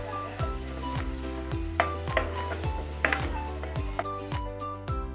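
Pav bhaji masala and chilli powder roast in a pan with a loud, close sizzle, broken by a repeating series of sharp spatula scrapes and clinks against the metal at a steady rhythm.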